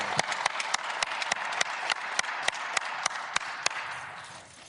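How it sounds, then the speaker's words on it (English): Audience applause at a press conference following Tyre Nichols' death: steady, moderately loud clapping with a few sharp individual claps standing out, slowly fading toward the end. "Give her a big round of applause."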